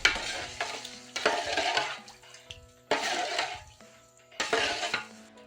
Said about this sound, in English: Pour a couple of liters of hot water into the basin and stir until the washing soda and soap combine.